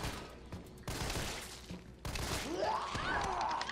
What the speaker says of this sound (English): How many times do I have to shoot you?